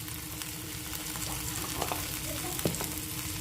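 Chopped tomatoes with coriander powder frying while being stirred continuously, a soft, fairly quiet sizzle with a few spoon scrapes and clicks.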